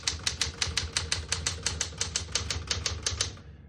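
A 1967 Smith-Corona Super Sterling portable typewriter types at a steady, even pace, its crisp keystrikes clacking in a regular rhythm about five per second, close and clear with no talking, ending with a brief pause.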